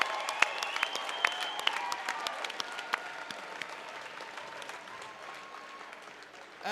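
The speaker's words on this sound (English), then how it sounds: "one more round of applause for a fantastic fight" Audience applause after a welterweight bout at a Chosen Few Fighting Championships event; sharp individual claps and cheers ring out near the start, then the clapping thins and fades into a quieter arena murmur.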